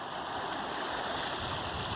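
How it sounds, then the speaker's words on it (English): Small babbling brook flowing steadily, a continuous close wash of trickling water with no footsteps or other sounds. "Maybe something like this, a little babbling brook action with no feet walking."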